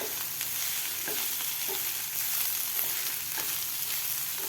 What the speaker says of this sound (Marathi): आता आपल्याला ही तीन ते चार मिनिट मिडियम गॅसवर ठेचा परतून घ्यायचा आहे